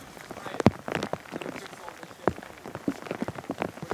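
Rain falls on hard outdoor surfaces during exterior house washing, a soft, uneven patter with sharper individual drops and taps, with muffled voice-like sounds faintly underneath.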